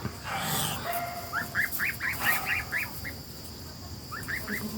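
A quick run of nasal honks from a goose, repeated in a rapid series, then a short burst again, over steady outdoor background noise.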